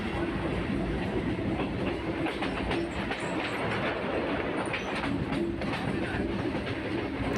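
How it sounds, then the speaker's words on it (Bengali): A train runs alongside a road near Khidirpur, its steady rumble and clattering wheels holding loud and continuous throughout, with no voices. "একদম রাস্তার গা দিয়ে, স্টেশনটা মানে রেল ট্রেনটা যাচ্ছে"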